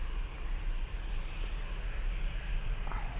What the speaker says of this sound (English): from Portugal, an Embraer E190, not a Wookiee, heading off to Lisbon.